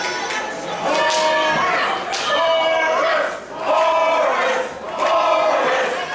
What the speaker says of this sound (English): The crowd are chanting hard for Horus right now